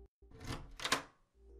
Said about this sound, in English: an unlocking sound